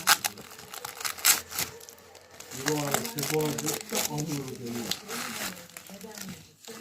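Plastic packaging crinkling and rustling as it is pulled open, steady close crackling throughout with a voice talking over it.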